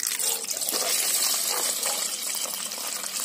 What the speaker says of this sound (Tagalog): So, lagyan natin ng sabaw.